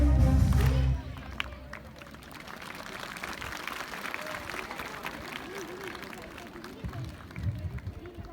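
Audience applause at a college Independence Day celebration in India, a soft, continuous patter of many hands clapping at a distance after a brief loud burst at the start.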